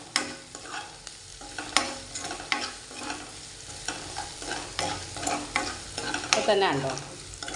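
Shallots frying in hot oil for a tempering, a steady sizzle with bursts of stirring clatter against the pan, close and fairly loud, with a brief voice near the end.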